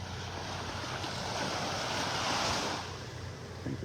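Ocean waves break and wash ashore on Vanderbilt Beach in North Naples, Florida as the tide comes in, a steady rushing surf swelling and easing with wind noise across the microphone.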